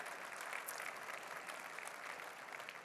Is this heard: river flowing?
no